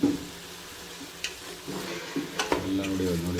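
Tomato bath cooks in a pan with a soft, steady sizzle, and a spoon makes a few scattered stirring scrapes and light clinks close by.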